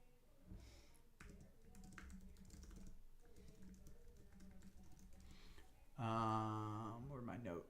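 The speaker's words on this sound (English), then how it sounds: "I'm typing in my notes about Jim Cramer's." Rapid typing on a computer keyboard during a live stock-market stream, a steady patter of close clicks over low background noise, with a louder tonal voice or music burst near the end.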